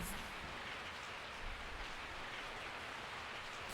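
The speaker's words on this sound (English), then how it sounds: "I woke up to the sound of falling rain." Steady rain falls in the Resident Evil 3 video game, a constant hiss of dense drops at an even, moderate level with no pauses or voices.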